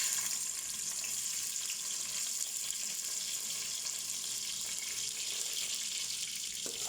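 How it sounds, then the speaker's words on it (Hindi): Onions frying in hot oil for a mutton and bottle gourd curry, a dense, steady sizzling hiss heard close and fairly loud throughout, with no voices. "तेल हमारा गर्म हो गया, अब हम इसमें प्याज डाल देंगे।"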